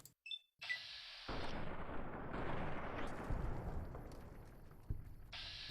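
Gunshots in Fallout New Vegas against lobotomites, a heavy booming blast after short quiet clicks, followed by a long rumbling roar and another thud near the end, loud and close with no talking.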